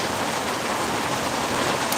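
Steady rain pours down onto a canvas cover outdoors, a dense, even hiss that stays constant throughout with no voices.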